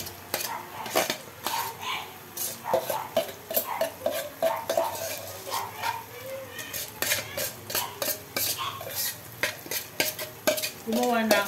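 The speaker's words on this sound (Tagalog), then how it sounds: "pwede ko nang ilagay guys yung bawang" Garlic sautés in oil in a pan, with a soft sizzle under frequent clinks and scrapes of a utensil stirring against the metal. The stirring comes in irregular bursts and stays close and fairly quiet, with no talking.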